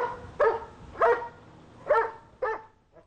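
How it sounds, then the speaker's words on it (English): Dog barking four times at an uneven pace, each bark short and mid-pitched, close by and moderately loud over quiet background, with no talking. "barking all day when you're not home?"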